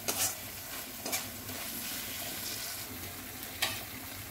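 Chicken coated in Schezwan sauce sizzles steadily in a pan while being stir-fried, the even frying hiss broken by a few quick scraping stirs near the start and toward the end.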